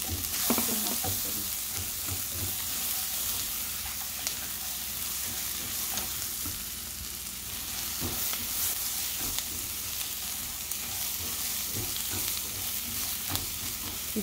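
Chopped onion and garlic sautéing in a 2.5-quart Princess House saucepan, a steady close broadband sizzle with scattered soft scrapes and clicks of stirring, continuous for the whole stretch with no voices.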